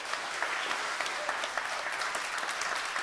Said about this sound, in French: qu'on leur fasse un gros applaudissement